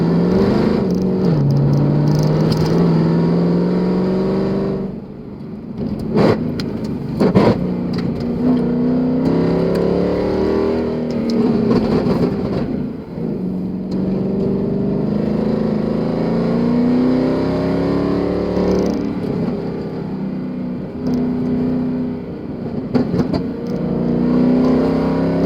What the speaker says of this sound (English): Let the car do the talking.